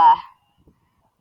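Cow in the Minecraft video game giving one short, nasal, honking moo, loud and alone, followed by near silence.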